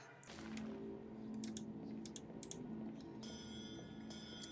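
Faint, irregular tapping from an approaching reaper in the horror video game ShowDown Bandit, a scattering of light clicks over a low ambient hum, quiet and somewhat distant.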